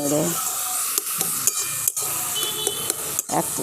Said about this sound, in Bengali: এই জলটাকে কিন্তু শুকনো করে নিতে হবে, এইভাবে নেড়ে